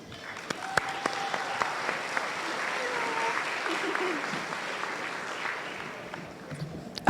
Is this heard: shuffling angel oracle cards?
no